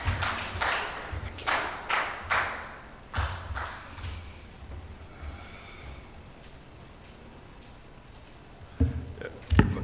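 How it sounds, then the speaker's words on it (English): Scattered audience claps at an East African civil society summit as an African Union guest walks up, several sharp bursts early, then a quieter stretch of room noise before a few louder knocks near the end. "You clap until he arrives here"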